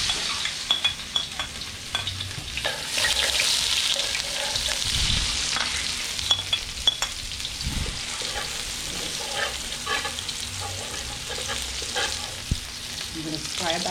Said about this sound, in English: Going to fry up the tomatoes and the garlic and the onions and the hot pepper